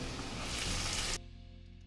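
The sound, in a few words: onions and potatoes sautéing in a hot pan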